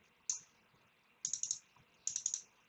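Crisp computer keyboard typing in short bursts: a single keystroke, then two quick runs of three or four sharp clicks each, close and clear against a quiet background.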